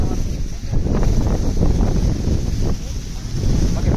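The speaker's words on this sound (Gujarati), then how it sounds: "પવન એવો જોર જોરથી ચાલે છે ને" Strong gusts blow across the Saputara hill station, buffeting the microphone in loud, rumbling surges that rise and fall for several seconds.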